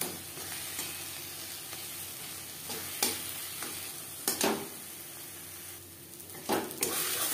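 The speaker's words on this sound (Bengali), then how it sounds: "লঙ্কার সাথে পাতা বাটা বেশ ভালো করে মিক্স করে দেব। প্রথম 5 মিনিট রান্নাটা করব হাই ফ্লেমে।" Taro leaf paste mixed with chilli sizzles in a pan over a high flame, a continuous frying hiss broken by several sharp scraping strokes of a spoon stirring, fairly faint and close.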